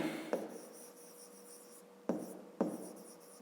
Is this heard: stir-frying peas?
no